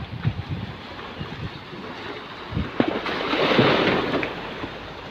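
Waves slosh and splash against a small dragon boat's hull, with gusting wind noise buffeting the microphone throughout.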